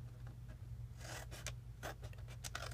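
Scissors cutting through a 12x12 sheet of paper, a few short dry snips and scrapes close by and fairly quiet, alone over a low hum.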